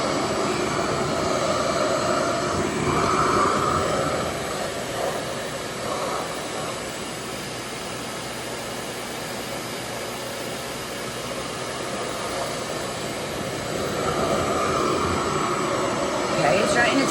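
A RevAir reverse-air hair dryer running steadily on thick hair, a loud continuous whooshing roar with slight swells in strength, close by, and nobody speaking over it.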